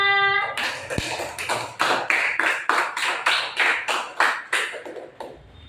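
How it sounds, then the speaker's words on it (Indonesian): A classroom of pupils claps together for a classmate, a fast, even run of roughly a dozen sharp bursts of applause lasting several seconds before fading out. "Tepuk tangan untuk Mas Nova."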